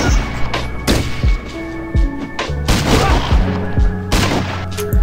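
Gunfire in the PC game Fallout Tactics: Brotherhood of Steel, with loud, close, repeated shots and booming blasts in irregular bursts over a dense, rumbling battle background.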